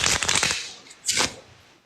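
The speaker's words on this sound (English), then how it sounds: "All right, I'll do a couple shuffles here." A deck of playing cards being shuffled by hand: a dense burst of riffling clicks for most of a second, a short pause, then a second quick riffle, close and fairly loud with no talk.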